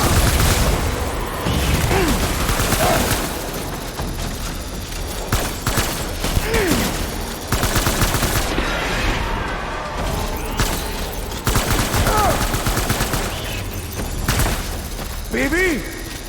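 Gunfire in a Death Stranding firefight, with repeated loud shots and bursts throughout, punctuated by booms and mechanical clatter, while voices shout over the action.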